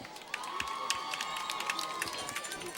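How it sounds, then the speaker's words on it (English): Crowd cheering at a 2012 high school football game, Wayne Hills vs Northern Highlands, after a touchdown: distant shouts and whoops over a sustained whistle-like tone, with rhythmic claps and voices mixed in. "here's it seems like a new cheer from the cheerleaders, where after a touchdown they cheer on the player who scored"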